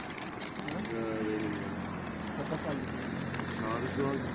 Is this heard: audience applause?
no